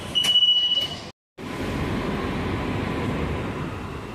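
An AC local electric train between Tambaram and Chengalpattu rumbles steadily with broadband rolling noise, a brief high squeal at the start, then a short dropout before the steady running continues.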